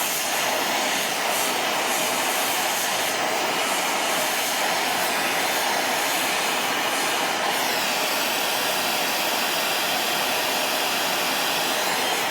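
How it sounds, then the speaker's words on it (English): A torch heats aluminum on a 1972 PolarKraft boat so it can be bent, giving a loud, constant roaring hiss that holds steady throughout, with no voices. "I'm heating it down here just where I want it to bend"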